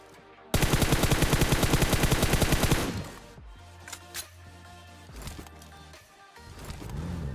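Groza assault rifle fired in PUBG Mobile: a loud, close burst of rapid full-auto shots lasts about two seconds, then gives way to quieter game ambience and scattered softer noises.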